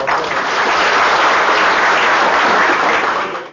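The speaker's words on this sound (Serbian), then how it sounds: "što su delegati pozdravili dugim aplauzom" Delegates at a Socialist Party of Serbia meeting give sustained, dense applause, a loud continuous wash of many hands clapping that fades slightly at the end.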